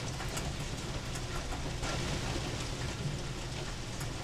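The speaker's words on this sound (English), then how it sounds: "Whoa! We got hail." Hail falls outdoors as a dense, steady hiss and patter of ice pellets striking surfaces, continuous and fairly loud throughout with no voices.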